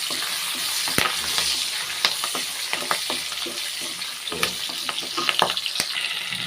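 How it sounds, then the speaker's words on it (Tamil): Curry leaves and dried red chillies sizzle in hot oil, a loud continuous crackling hiss with scattered sharp pops and spatula stirring throughout. "ஒரு கொத்து கருவேப்பிலை சேர்த்துக்கிறேன் அது கூடவே ரெண்டு காஞ்ச மிளகா சேர்த்துக்கிறேன்"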